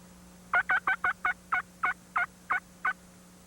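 A turkey call imitates a high-pitched young hen with fast timing: about ten quick, evenly spaced yelps ring out clearly over a faint steady hum, with no talking.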